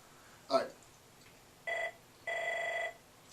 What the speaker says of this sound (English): I'm going to let the phone finish ringing because I'm not getting it